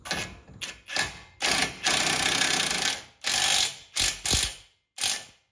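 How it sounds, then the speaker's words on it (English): On a 997-generation Porsche 911, a ratcheting wrench tightens the inner tie rod jam nut in close, crisp bursts of rapid clicking. The bursts come in several separate strokes of different lengths, with short silent pauses between them. "Now I've just got to tighten that inner jam nut against the outer tie rod"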